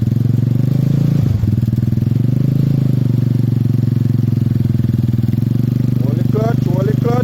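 A motorcycle engine idling and revving during a riding lesson, a loud steady throb with a brief dip, rising in pitch near the end.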